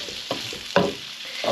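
A Darlington savoury mixture sizzles as it breaks down in a pan, with close bursts of frying crackle and stirring scrapes that rise and fall in a quick, uneven rhythm.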